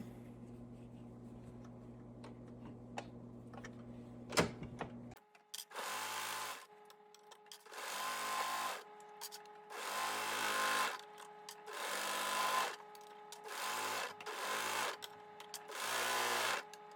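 An overlock serger trims and stitches the edge of balaclava fabric in several loud, close bursts of rapid whirring, separated by short pauses, after a few quiet clicks and a knock at the start.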